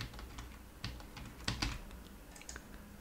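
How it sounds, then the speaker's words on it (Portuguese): Soft, irregular keystrokes on a computer keyboard, entered while filling in a web form, with scattered clicks of varying loudness and a slightly heavier cluster in the middle. "Eu posso digitar"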